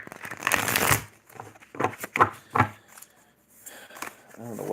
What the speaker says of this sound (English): Now I'll pull from the Alice in Wonderland and I'll shuffle again